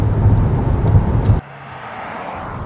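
A 2022 Hyundai Santa Fe accelerates at full throttle, its engine and road roar loud and steady inside the cabin before dropping off sharply to a quieter hum partway through.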